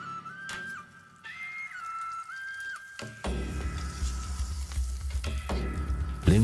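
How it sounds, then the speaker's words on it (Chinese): Mud carp sizzle in hot oil in a pan as they fry golden on both sides for a Shunde fish soup. A quieter start with a faint whistle gives way to a loud, steady crackling sizzle from about midway. "鳞鱼下锅煎至两面金黄"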